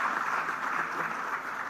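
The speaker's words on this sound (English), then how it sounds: "give a huge round of applause to this initiative by FADA" An audience at an inaugural session claps in a steady, dense round of applause, fairly soft and diffuse, with no voices over it.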